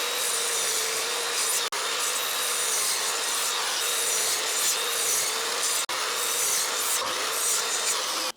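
Wooden Jenga blocks are sanded by hand with 80 grit sandpaper, a continuous close scratchy rubbing in steady back-and-forth strokes with two brief pauses.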